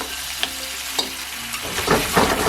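Pan-fried tofu sizzles as seasoning sauce is poured in, a steady low frying hiss punctuated by a few light clicks, swelling into louder bubbling crackle once the liquid lands.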